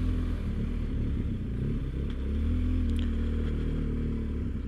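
A BMW R1250GS motorcycle rides steadily through Greek countryside, its engine a loud continuous low drone with slight rises in revs and wind rush around the rider.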